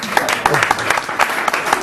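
A live audience at a leadership session in Oslo gives a round of applause, with dense clapping running throughout the short stretch and a few sharper individual claps standing out.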